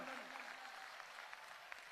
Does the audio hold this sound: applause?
yes